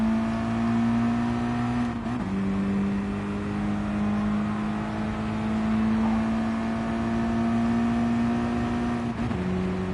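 A race car engine in the Gran Turismo Sport video game drones loudly and steadily at high revs, with brief dips at gear shifts around two seconds and near the end, and no talk.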